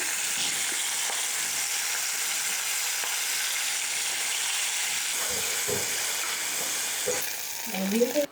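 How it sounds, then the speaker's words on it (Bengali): Bojuri fish frying in hot oil in a pan, giving a steady, dense sizzle throughout with a few faint clinks near the end. "একইভাবে বাকিগুলোও ভেজে নিচ্ছি"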